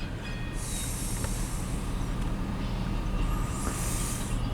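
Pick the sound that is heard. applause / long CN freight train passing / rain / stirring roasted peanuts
long CN freight train passing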